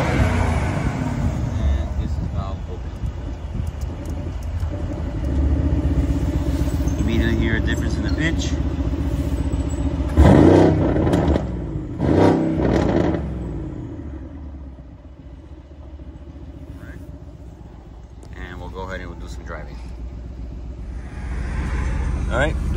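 A 2020 Mercedes-Benz GLC63S AMG coupe with 48K miles idles and cruises with its exhaust valve closed, a steady low rumble that swells briefly around the midpoint, with a voice talking over it at times.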